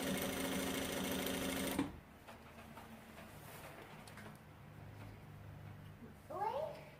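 A sewing machine stitching the seam of a handmade bag's handle runs in a loud steady whir for about two seconds, then stops, leaving quiet room tone and a faint meow-like cry near the end.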